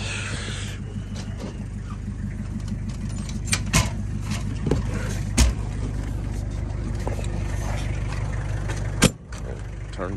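A 1992 Toyota Hiace 4x4 diesel camper drives along with a steady low engine drone and road rumble inside the cab, a few knocks and rattles, and one sharp bump near the end.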